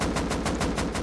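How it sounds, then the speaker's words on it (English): Rapid automatic gunfire in Rust, a fast even burst of about seven sharp close shots in a second, loud and alone. "I don't know what this kid is shooting at."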